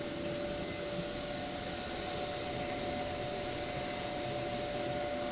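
Inside a mosque, a carpet washing machine runs with a constant, loud whooshing drone and a steady tonal hum, unbroken throughout with no talking.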